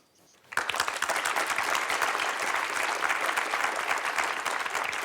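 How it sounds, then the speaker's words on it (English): Conference audience applauding panel speakers: after a brief quiet start, a sudden burst of steady, moderately close clapping from a sizeable room that holds evenly to the end. "Please join me in giving them a round of applause"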